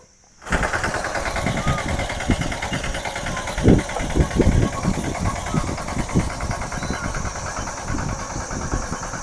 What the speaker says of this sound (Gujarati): દાદા હમણાં જઈવા ટ્રેક્ટર લઈને